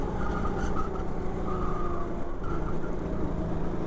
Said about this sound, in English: So I'm having to work the throttle here, exiting this turn